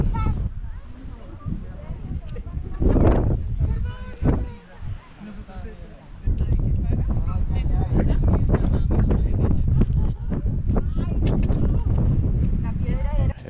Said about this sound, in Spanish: Aquí arriba hace una brisa y un frío hoy duro